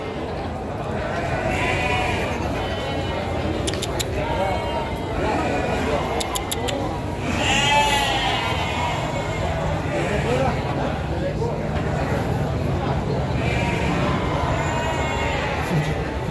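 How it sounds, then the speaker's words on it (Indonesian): Sheep bleat repeatedly at a livestock market selling premium sheep, with several calls rising over a busy crowd background and people talking nearby. "Oke teman-teman, kita akan mereview lagi domba super mewah."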